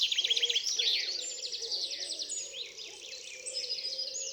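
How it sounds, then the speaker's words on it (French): Several birds chirp and trill continuously, overlapping high warbling calls against a soft outdoor background, fairly close and steady throughout. "portez simplement votre attention sur les chants des oiseaux"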